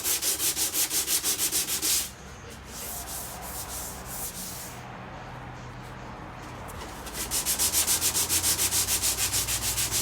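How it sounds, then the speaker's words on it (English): Hand sanding of polybond filler along the driver's door channel of a 1932 Ford five-window coupe, heard as close, steady rhythmic back-and-forth rubbing strokes, quick and even at the start and end with a softer, smoother stretch between. "once I get all this polybond sanded down"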